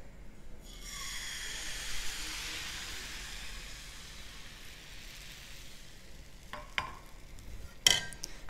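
Fish roll mixture stirred with oil in a non-stick pan gives a soft, steady sizzle with a broad hiss, interrupted near the end by a few sharp scrapes and clicks of the utensil.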